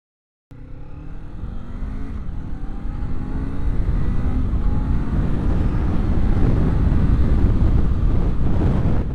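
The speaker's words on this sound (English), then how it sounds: "the acceleration on the Z500 is very good" A Kawasaki Z500 motorcycle accelerates hard, its engine note climbing in pitch through the gears, heavily buffeted by loud wind rush that swells as speed builds.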